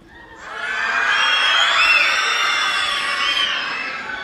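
A crowd of children screams and cheers together in a church during an Easter service, a loud sustained burst that swells quickly and holds for several seconds before easing slightly.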